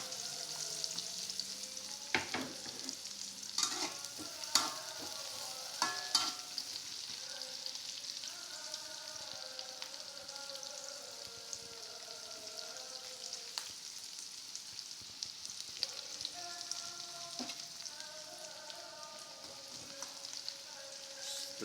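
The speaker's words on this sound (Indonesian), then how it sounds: "Caranya pertama masukkan bawang ya, ditumis dulu." Onions are sautéed in a pan for a Banjarmasin-style fish dish. A quiet, continuous hissing sizzle carries intermittent stirring scrapes and clicks, with faint voices in the background.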